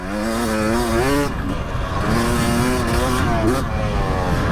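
A Husqvarna 300 two-stroke fuel-injected motorcycle engine revs hard, its rising and falling buzzing whine climbing in pitch, dropping, then climbing again, loud and close, with a voice talking over it.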